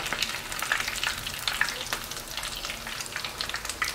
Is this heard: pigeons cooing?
no